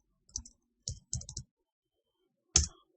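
A few isolated clicks of computer keyboard keys, struck one at a time and close by, with a short burst of three quick presses and a final louder tap after a pause.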